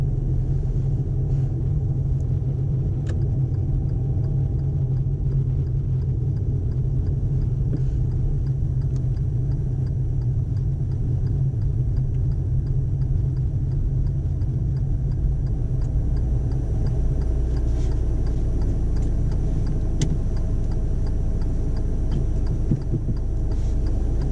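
A car driving along a busy main road during a driving lesson, with a steady loud engine and road rumble heard from inside the cabin, unchanging throughout and without talk.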